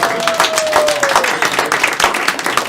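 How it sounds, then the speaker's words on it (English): Audience applause at a live talk show interview with a fashion model, a short burst of dense, close clapping from a crowd that holds steady throughout with no speech over it. "big round of applause"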